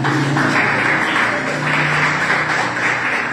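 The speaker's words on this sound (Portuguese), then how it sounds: "Vai dar palmas para Jesus" A church congregation claps together in a dense, sustained round of applause that fills the room steadily from start to finish.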